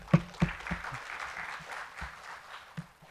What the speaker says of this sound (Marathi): आता टाळ्या होत्या